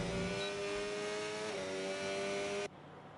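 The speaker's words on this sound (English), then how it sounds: "Pushing the revs every time." A race car engine in a racing video game revs loudly at high pitch, holding a steady harmonic whine through an eighth-gear run, then cuts off abruptly near the end, leaving a quieter background.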